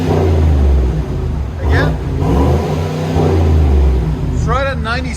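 A 2019 GMC Sierra X31 with a 5.3L V8 and Flowmaster Super 10 dual exhaust revs in loud, steady rumbling bursts close by, with people talking over the engine.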